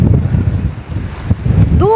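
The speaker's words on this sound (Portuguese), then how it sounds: "Com esse vento forte, né, pessoal?" Strong wind gusts buffet the microphone at a tilapia fishing spot, a loud, fluctuating rumble with water in the background and a brief tonal sound at the very end.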